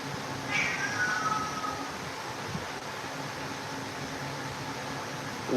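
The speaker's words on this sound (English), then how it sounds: "we got a kitty in here now" A cat meows indoors in a room where someone is painting, a single drawn-out meow near the start over a quiet background hum, followed by faint rustling.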